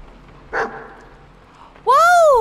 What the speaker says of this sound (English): Oh, there's an attack dog!